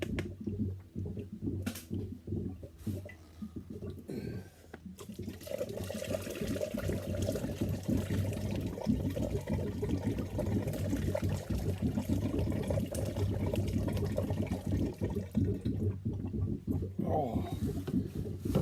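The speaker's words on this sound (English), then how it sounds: "You can hear it bubbling away now." Water gurgles and bubbles continuously at close range in a kerosene stove setup fuelled with jet fuel, a churning, sloshing flow with a brief dip near the start.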